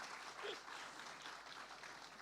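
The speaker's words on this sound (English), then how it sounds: "we can have a bigger round of applause for this team" A conference audience applauds a startup team at a water-tech funding talk, a continuous crackle of many hands clapping at moderate distance, steady for the whole stretch.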